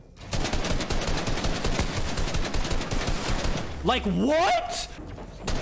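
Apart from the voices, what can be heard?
gunfire in the video game Fortnite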